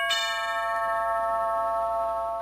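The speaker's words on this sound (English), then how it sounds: "The doorbell rang at 39 Stevenson Avenue." A doorbell rings once with a bright, sustained chime that rings on and slowly decays across the whole stretch, alone with no talk over it.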